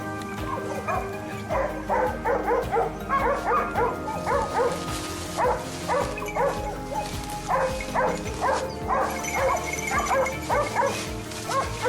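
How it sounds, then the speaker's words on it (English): Pack of hunting hounds on a mountainside baying and yelping in repeated bursts at a cornered wild boar, heard at mid distance with a steady outdoor background. "the barking of our hounds erupted from the base of the mountain"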